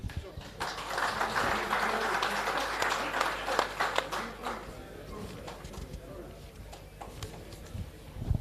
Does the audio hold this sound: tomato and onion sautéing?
no